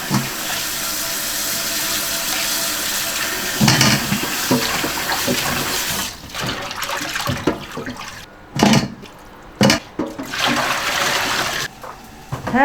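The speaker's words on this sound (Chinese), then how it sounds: "给它清洗干净" Running tap water pours over blanched oxtail as it is rinsed clean, a steady close splashing stream with brief clatters and gaps in the flow, ending with short bursts of water.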